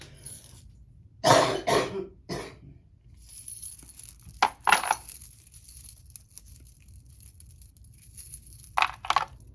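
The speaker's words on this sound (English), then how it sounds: "Excuse me, I have to cough." A few sharp coughs from a person crafting a beaded bracelet, bunched near the start, then scattered softer rustles and one more short burst near the end, close to the mic in an otherwise quiet room.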